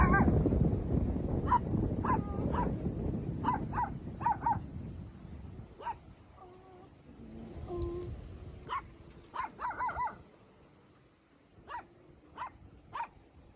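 A dog barks repeatedly in short bursts and uneven clusters, moderately close, with some whimpering yips, over a low rumbling background that fades partway through.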